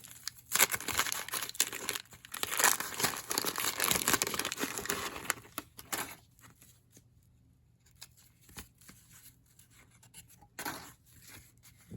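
A 1991 Topps baseball card pack is torn open: loud, dense crinkling and ripping of the wrapper for several seconds, then quieter intermittent rustles and soft handling noises.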